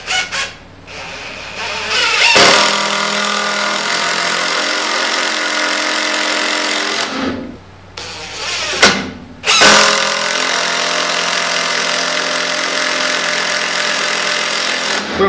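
Porter Cable PCC647 impact driver sinking 3.5-inch star-tip deck screws into wood: two loud, sustained bursts of rapid rattling hammering, the first about five seconds long, a brief pause, then a second run of similar length, close to the mic.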